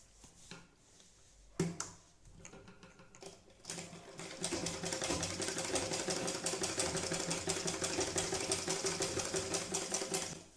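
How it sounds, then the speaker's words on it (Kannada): A sewing machine stitches fabric, beginning with a few scattered clicks and handling noises, then settling into a steady, fast, even rattle of stitching that continues to the end. "ಮಷೀನನ್ನು ಸ್ವಲ್ಪ ನಿಲ್ಲಿಸಿ ಮತ್ತೆ ಪ್ರೆಷರ್ ಫುಟನ್ನು ಎಬ್ಬಿಸಿ"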